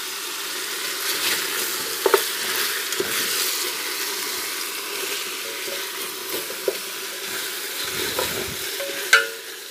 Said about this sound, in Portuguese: Deixa eu refogar pra mim.